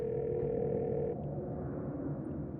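Phone dial tone in the Scarlet Hollow video game, a steady continuous tone that drops to a quieter hum partway through, with no voices.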